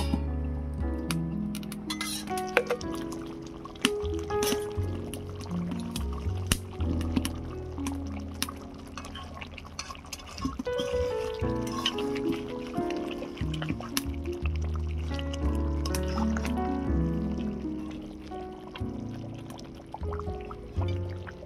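A little water and a spoonful of sugar go into a pan of chicken roast, making a continuous pouring and liquid splashing sound with faint squishing, steady and fairly loud throughout.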